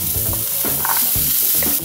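Sliced carrots and other vegetables hit hot oil in a preheated pan, a loud close sizzle with scraping stirring sounds and clatter as they are tossed in, no voices.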